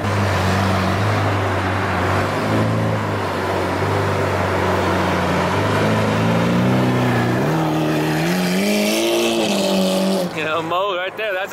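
A Lamborghini Aventador V12 engine roars and revs up with rising pitch, loud and close, then drops off abruptly near the end.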